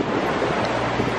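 Atlantic Ocean waves wash in a constant close, loud surf roar with wind buffeting the microphone, a brief unbroken stretch of rushing water with no voices.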